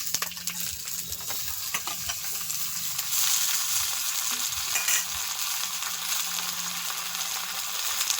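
Unboiled taro stolons frying with shrimp in a pan hiss and crackle steadily for several seconds, with occasional spatula scrapes and a louder burst of sizzling partway through; close, no talking.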